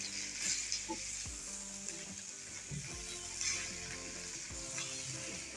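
Boiled potatoes frying in oil in a pan with onion and capsicum, a steady close sizzle broken by repeated scraping stirs of a spoon against the pan.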